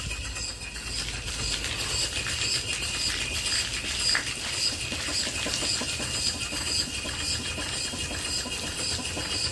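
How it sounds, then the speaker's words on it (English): An antique Worthington steam boiler feed pump runs steadily, giving a continuous hissing, mechanical clatter with faint rhythmic ticking over a low hum, moderately close and without talk. "I'm running the pump here again"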